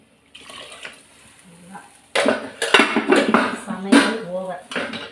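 Water is poured into a metal pot to wash rice, splashing and sloshing with clanks against the pot in short bursts while a voice talks over it.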